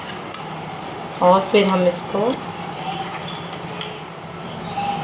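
A spoon stirring ginger, honey and black pepper cough syrup in a small pot, bright metallic scraping and clinks in short bursts, with someone speaking over it.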